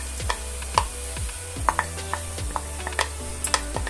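Sausages and their juice are stirred in a Lidl multicooker, with a utensil knocking and scraping against the pot in irregular clicks over a soft sizzle.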